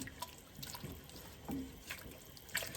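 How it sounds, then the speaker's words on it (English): Water pours into a pot of Portuguese Espirito Santo soup, a faint, steady running trickle with small splashy bursts, heard close and alone without talk. "I'm going to add a little bit more water in here"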